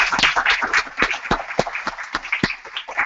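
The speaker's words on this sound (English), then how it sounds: "So definitely give Amadou a round of applause" Applause from a conference audience at a Coders4Africa event in Washington DC, a dense patter of claps sustained at moderate loudness for a few seconds.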